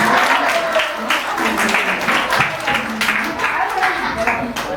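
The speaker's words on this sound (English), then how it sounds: "Give clap to him." A classroom of students claps for a classmate who came to the front, a steady dense patter of many hands with voices mixed in throughout.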